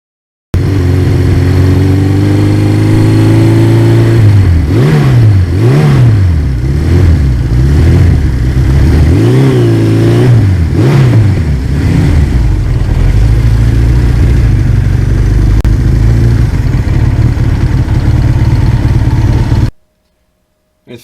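A 1982 Suzuki GS1100E four-cylinder superbike engine while riding, loud and close, with a steady drone broken by several rising and falling revs mid-run before settling into an even cruise that cuts off abruptly.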